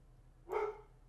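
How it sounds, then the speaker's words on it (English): A single short dog bark sounds once, faint and somewhat distant, against a quiet indoor background. "The dog is barking at something."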